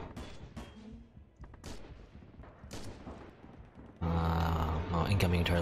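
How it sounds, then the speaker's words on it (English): Incoming artillery and gunfire in Red Orchestra 2 and Rising Storm multiplayer on the Bridge to Despair map: scattered sharp blasts and thuds at first, then a sudden, loud, sustained roar of battle noise. "incoming artillery from our friends"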